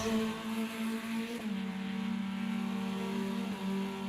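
A Formula Inter open-wheel racing car in Automobilista 2 at Guaporé drafts in a slipstream, its engine holding a steady, buzzing high-revving note with a brief dip before pulling on unbroken, close and loud.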